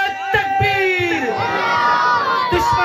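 A large crowd at a religious gathering in praise of the Prophet's companions roars back in answer to a Takbir call, a sustained massed shout of many voices rising together and holding loud throughout.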